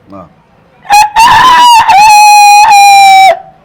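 A person's voice imitates a rooster crowing loudly and close up, one long drawn-out call after a brief vocal lead-in.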